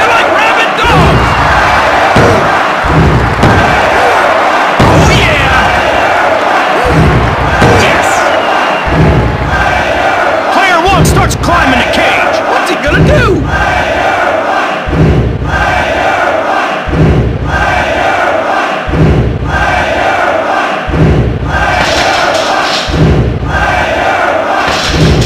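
Video game wrestling crowd from WWF Attitude on Dreamcast, a loud, steady roar with rhythmic chanting swells and repeated thuds that carries through the whole stretch without pause.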